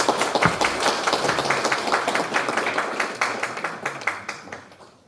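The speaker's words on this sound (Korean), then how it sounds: "큰 박수로 환영해 주세요." An audience gives warm applause welcoming a Buddhist monk presenting on fortress construction and a clan genealogy, dense many-handed clapping with quick individual claps standing out, fairly close, steady, then tapering off toward the end.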